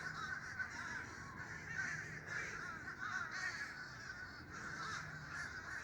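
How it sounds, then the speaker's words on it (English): A dense chorus of many birds, mostly crow-like caws, calls from trees in an outdoor hangout spot, a steady overlapping clamor at moderate distance with no talking. "Other than all the birds. Jeez. A lot of birds."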